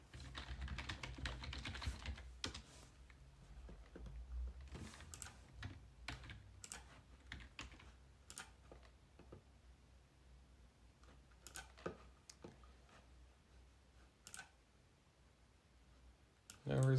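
Computer keyboard typing in scattered bursts of quick, close clicks with pauses between them, faint against a quiet room.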